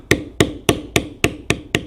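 Seven evenly spaced, sharp knocks of a mallet striking a bevel tool on leather during stamped basket-weave tooling, close and crisp, each tap decaying quickly, with no talking.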